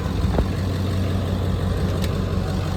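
A Ford OBS pickup truck engine runs loud and close with a steady, low rumbling drone, with no clear rise in revs. There is no speech.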